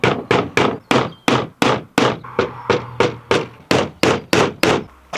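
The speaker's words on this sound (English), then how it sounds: "I'm just going to put a nail on each corner and just hammer that into there real quick." Twelve sharp hammer blows drive nails into wood in a quick, steady rhythm, each a loud close thunk that fades briefly before the next.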